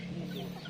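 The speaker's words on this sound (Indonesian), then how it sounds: "Banyak ayam Kang. Ayam kampung lihat Kang." Free-range village chickens clucking close by, a short continuous low fowl call with no voices over it.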